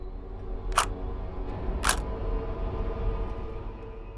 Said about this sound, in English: he pressed the shutter anyway